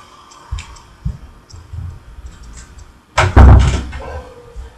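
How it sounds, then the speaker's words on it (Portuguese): A door closing indoors in a quiet home: soft footsteps and small clicks from a handle, then a loud, sharp thump as the door shuts, with a short rattle fading after it. "Eu só vou fechar a porta."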